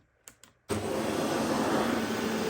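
A Shark Stratos bagless upright vacuum cleaner is switched on at the handle after two small clicks, then its motor whirs up and runs as a steady, close hum.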